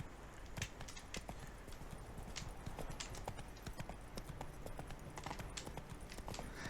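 Roach, a horse in The Witcher 3, gallops with a steady rapid clip-clop of hooves that keeps up at an even, moderate loudness through the whole stretch.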